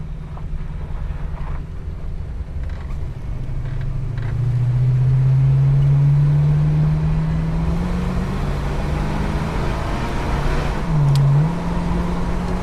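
An old vehicle pulls away in first gear, its low engine drone rising steadily in pitch with a loud, wind-buffeted rumble and a brief second rise near the end.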